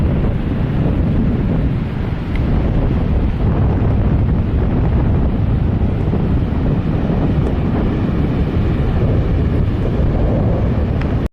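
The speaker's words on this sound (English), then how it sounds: "But it's windy and nasty." Strong gusty wind buffets the microphone over a constant roar of ocean surf on a Washington coast beach, loud and unbroken throughout.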